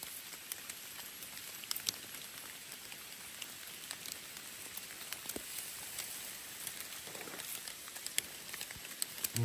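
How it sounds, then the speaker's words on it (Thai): Steady rain falling in a forest while gathering mushrooms, a dense, even patter on leaves and surfaces with scattered nearby drops, continuous and moderately faint with no voices. "ฝนตกหยุดบ่ยันเลยเนาะ"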